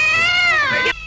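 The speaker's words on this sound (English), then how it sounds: "That's a cat." A cat's drawn-out meow from a movie soundtrack, a single loud, close cry that rises and then bends downward before cutting off abruptly into quiet.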